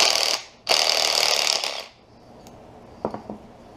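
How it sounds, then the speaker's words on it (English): A wrench forcing a nut off an exhaust manifold stud on a 2000 Ford Mustang 3.8L V6, two loud close bursts of grinding metal followed by a few sharp clinks of metal tools. "I do want to separate the nut here from the stud so I can put them on separately."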